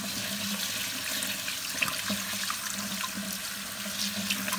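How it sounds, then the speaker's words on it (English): Rice is rinsed under running tap water in a strainer, with a steady, close rushing splash and light dripping that continues throughout. "Rinsing it in my strainer right here."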